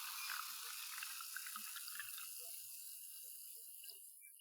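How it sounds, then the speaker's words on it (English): Soda pours from a can or bottle into a glass, a soft hissing fizz with faint bubbly pops, quiet and steady, tapering slightly over about four seconds. "That delicious pouring sound."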